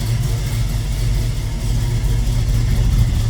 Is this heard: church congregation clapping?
no